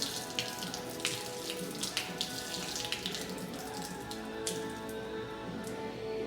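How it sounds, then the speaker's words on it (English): E85 fuel leaking from disconnected fuel lines on a Jaguar XJ6 with a turbo LS swap, a faint steady trickle and patter of liquid with scattered drips, heard at low level and without talk. "That's gonna leak a bunch of gas."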